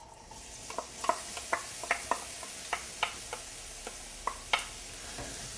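Onions sizzling in hot oil in a pan on high heat, a steady frying hiss broken by a dozen or so sharp clicks and pops from stirring, close and fairly quiet, with no talk.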